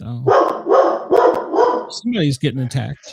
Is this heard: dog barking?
yes